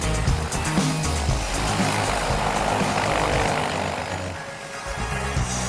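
Loud, steady airplane engine and propeller roar fills the cabin just before a skydiving jump with the Golden Knights, droning continuously throughout without a break.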